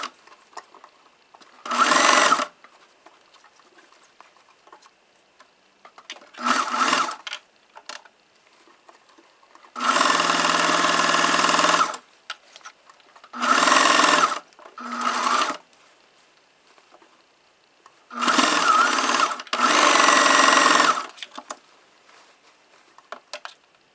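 Sewing machine stitching a leggings seam in short bursts, about six runs of rapid mechanical whirring separated by quiet pauses, close and clear, with faint handling sounds between.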